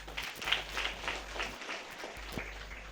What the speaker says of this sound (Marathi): ज्यांनी कुणी तुमचे फॉर्म भरले त्यांच्यासाठी एकदा टाळ्या वाजवा